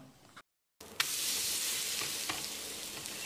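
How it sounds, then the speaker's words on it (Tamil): A tomato omelette frying in a pan, a steady bright sizzle that starts abruptly after a brief silence with a sharp tap, then holds loud and even with occasional faint crackles. "அளவான தீயிலேயே 1 நிமிஷம் வேகட்டும், மூடி வச்சிடலாம்."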